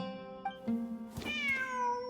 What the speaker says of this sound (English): Layla and Jur both heard the sound of a cat.